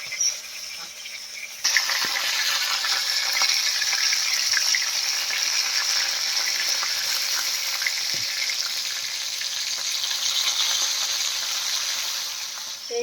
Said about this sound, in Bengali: আমি মাছ ভাজা শুরু করে দিয়েছি